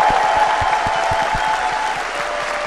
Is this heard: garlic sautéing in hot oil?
no